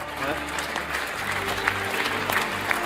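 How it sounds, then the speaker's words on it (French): Studio audience on a French TV quiz game show applauds a departing contestant, a sustained burst of clapping heard under a host's ongoing talk for about three seconds. "Je voudrais qu'on applaudisse quand même Paul"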